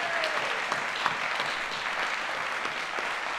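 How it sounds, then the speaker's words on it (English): An audience at the First Nations Arts Awards gives winners a sustained round of applause, dense steady clapping filling the hall at moderate level, with no speech over it. "let's give a hearty round of applause to all our wonderful winners tonight"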